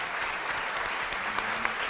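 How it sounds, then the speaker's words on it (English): A crowd applauds a panel at the close of a discussion during Eastern Connecticut State University's 125th anniversary community engagement event, producing a dense, even roar of clapping that continues steadily through the short stretch. "Let's give these guys a round of applause"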